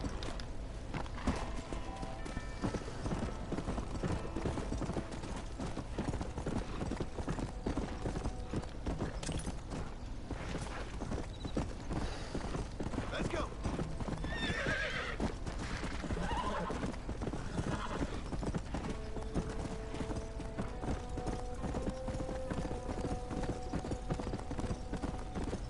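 A horse in Red Dead Redemption gallops with steady, rapid hoofbeats across the whole stretch, punctuated by whinnies and neighs, set against faint creaks and game ambience, with no talk.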